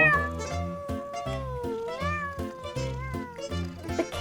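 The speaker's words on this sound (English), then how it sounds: "Penguin's cat has had 4 kittens." Four small kittens meow in quick, repeated mews that rise and fall in pitch over a soft rhythmic background, close by and fairly quiet.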